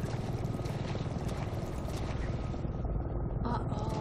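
A helicopter in the Resident Evil 7 video game gives a steady throbbing rotor drone over several seconds, mixed with game ambience and thinning slightly near the end.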